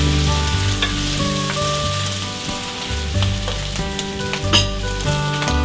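Tender, spoon-shredded meat sizzles steadily in hot fat, a continuous crackling hiss running beneath prominent music throughout.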